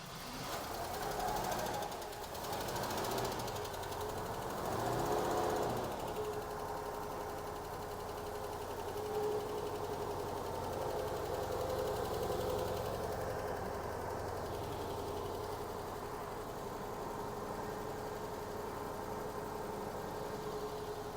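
A 1970 International 1000 pickup engine idles steadily at moderate distance, a low continuous rumble with faint knocking and a few louder surges early on, no talking.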